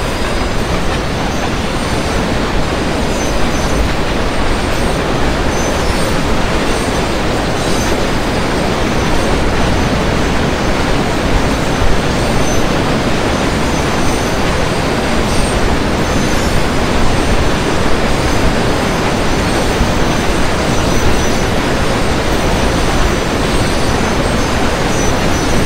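A WDG4 diesel locomotive hauling a BOXN freight rake in the Open Rails train simulator rumbles steadily, with continuous rolling wheel noise and clatter on the rails and no voices.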